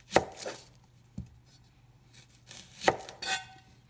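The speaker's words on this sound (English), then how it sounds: "This is one way of chopping an onion." Knife strokes on a cutting board while cutting the ends off an onion, a few sharp cuts with pauses between, close and fairly quiet.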